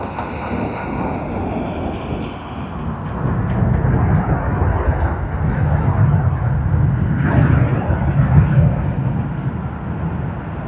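A Fiji Airways airliner, flight FJ911, roars at Sydney Airport, its jet engines a loud, sustained rumble that swells and holds, with faint talk underneath.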